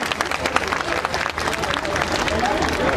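A school crowd at the 2022–2023 annual day of Great Mission School bursts into loud applause as a guest is honoured with a memento, the clapping mixed with voices and general crowd bustle.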